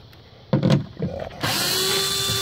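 A power drill whirs up close on the Phillips head screws of a Subaru Outback front door speaker, with a short burst of effort followed by a steady high-pitched whine.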